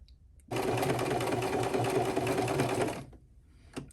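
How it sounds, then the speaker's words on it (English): A sewing machine stitches in the ditch to quilt the lining of an AirPod holder. It gives one loud, steady, fast whirring run of about two and a half seconds, then stops, with faint handling noise afterward. "the next job I'm just going to stitch in the ditch to quilt my lining here and here"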